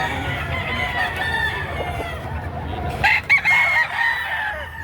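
A rooster crows loudly nearby, with other chickens clucking and fowl noises in the background of a busy farmyard.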